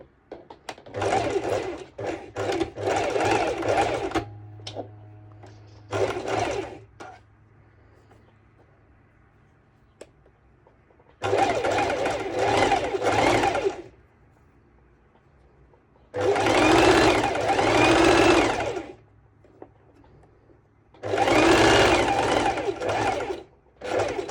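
Domestic sewing machine stitching bikini bottoms, running in several bursts of rapid mechanical chatter a few seconds each, separated by pauses where someone talks quietly.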